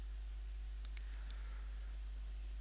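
A handful of faint, quick clicks from a computer keyboard and mouse while working in 12d Model surveying software, scattered over a steady low electrical hum.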